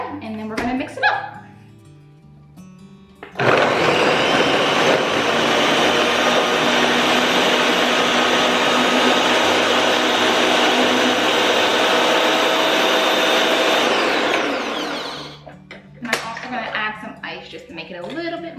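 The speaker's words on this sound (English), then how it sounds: "get my blender" A blender whirs loudly and steadily for about twelve seconds while mixing a mango, pineapple and vegetable smoothie, with someone talking and a clatter of lid and dishes before and after it runs.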